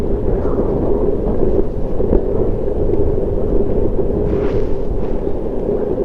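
Strong wind gusts buffet the microphone while riding an electric skateboard outdoors, making a loud, steady low roar that runs throughout with slight swells and no speech.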